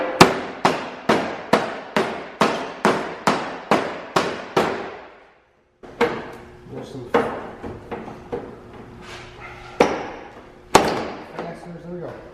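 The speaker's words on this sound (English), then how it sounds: "Take a hammer and just hit this line to break off the Bondo" Sharp metallic hammer blows knock Bondo off a Nissan 240SX car body in a fast, even series of about a dozen, then slower scattered knocks follow with short pauses between.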